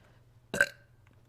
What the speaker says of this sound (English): There's the burp.